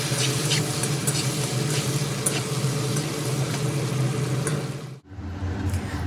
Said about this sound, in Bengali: ভালোভাবে নেড়ে চেড়ে বেশ লাল লাল করে ভেজে নেব।